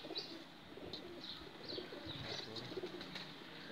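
Soft pigeon cooing repeats over a steady outdoor hiss, with faint chirps scattered throughout; the birds sound somewhat distant.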